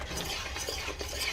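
A spoon stirs carrot cake jam in a pot, soft close scraping and swishing strokes over a faint bubbling cook, no talking.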